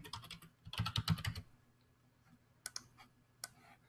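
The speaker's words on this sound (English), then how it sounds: "Start typing in my values." Someone types values into a computer keyboard, entering data for a bar graph. Quiet bursts of rapid keystroke clicks come close by, then a pause and a few scattered taps.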